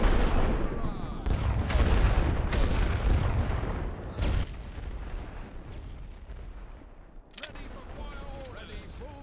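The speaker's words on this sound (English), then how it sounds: "Set for barrage." Artillery barrage in the WWI game Great War Western Front, loud overlapping cannon blasts and gunfire for the first few seconds, then fading into distant rumble, with one more sharp shot near the end and faint voices.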